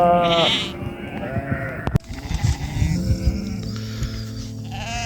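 Sheep bleat loudly up close, a wavering cry followed by more bleats and rustling movement, with other animal sounds in the background.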